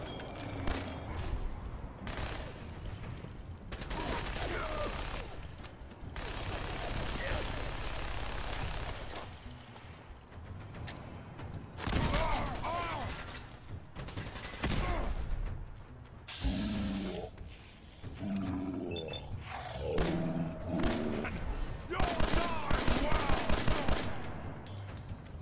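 Repeated gunfire in Fallout 4, shooting at an enemy: bursts of loud shots and impacts spread across the clip, with breaks between volleys, over game sound and some background noise.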